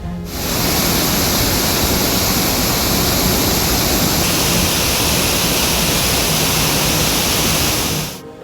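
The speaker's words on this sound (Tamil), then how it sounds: "பொள்ளாச்சியை அடுத்த ஆழியாறு கவி அருவியில் வெள்ளப்பெருக்கு ஏற்பட்டுள்ளதால்" A waterfall in flood after heavy rain, Kavi falls on the Aliyar near Pollachi, roars as a dense, steady rush of water that stays loud and unbroken with no voices.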